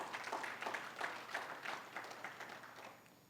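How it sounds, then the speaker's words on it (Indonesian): A church congregation applauds during a Sunday Ascension service, a soft, distant patter of many hands that rises in loose surges and slowly fades toward the end. "Berikan tepuk tangan."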